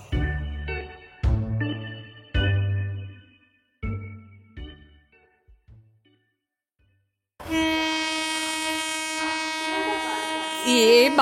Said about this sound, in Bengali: এ বাবা, যা যা যা, ট্রেনটা চলে গেল।